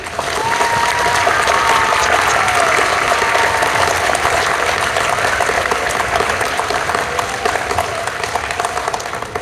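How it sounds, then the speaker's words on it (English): Sustained audience applause at an elementary school award celebration, dense and steady throughout, with many hands clapping at once and a faint tone running beneath. "if you would please give them a round of applause"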